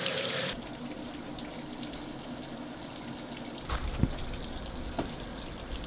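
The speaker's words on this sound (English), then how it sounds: "I don't know how to turn off the water. It's still going down." Water tap left running at a motorhome aire in France, a steady broadband gush that never stops, with a couple of faint knocks and clunks near the end.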